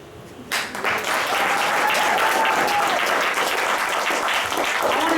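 Applause at a birthday roast: a crowd breaks into loud, dense, sustained clapping that starts suddenly and holds steady throughout, with a faint voice briefly audible beneath it.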